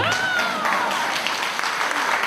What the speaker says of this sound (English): I need a bigger clap than that.